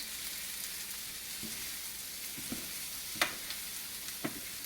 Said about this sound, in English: And then add the onions, and